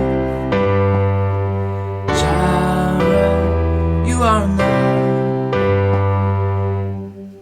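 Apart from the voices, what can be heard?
piano chords played in rhythm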